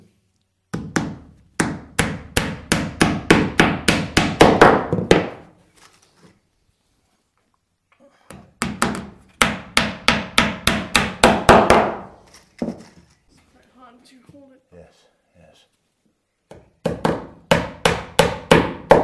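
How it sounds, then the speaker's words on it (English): Rapid series of sharp hammer blows nailing wooden planks onto a boat hull, in several bursts, with short pauses and brief talk between them. "So just nail this on now."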